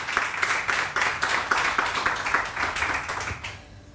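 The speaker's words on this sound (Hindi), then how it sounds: "इनके लिए बहुत सारी तालियां।" A studio audience on a morning TV show applauding guests, a steady wash of many hands clapping that fades out near the end.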